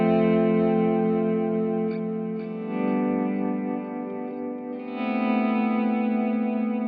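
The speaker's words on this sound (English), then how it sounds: "So what you're hearing there is just some analog echo" Electric guitar played in slow volume swells through an analog echo effect with vibrato modulation, giving sustained, wavering chords that repeat and overlap in steady waves with no talking.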